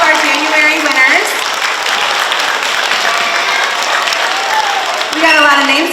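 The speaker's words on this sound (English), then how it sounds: "And a round of applause for all of our January winners." An audience at a school assembly gives a sustained round of applause for student-of-the-month winners, loud and continuous, with children's shouts and cheers rising over the clapping near the start and end.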